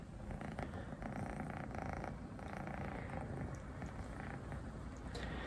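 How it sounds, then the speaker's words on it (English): A cat purrs steadily and close up, a continuous low rumbling vibration with no talking. "Oh, hear the purring."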